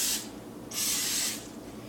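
A spray bottle mists water onto bread dough in two short, close hissing bursts, the second longer than the first.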